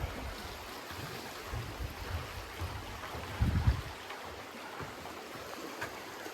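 Water flowing steadily in a stream beside a hiking trail near Indian River, Michigan, a faint continuous rushing wash with a brief louder low thump partway through.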